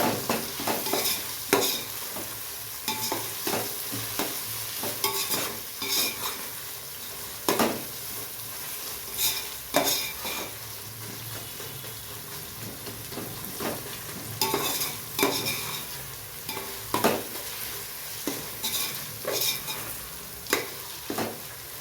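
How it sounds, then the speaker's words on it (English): Chopped tomatoes being stirred into a frying ghee rice base, a low sizzle running throughout under repeated scraping and clinking strokes of a spoon against the pan. "We'll next add in some chopped tomatoes and give them all a good mix."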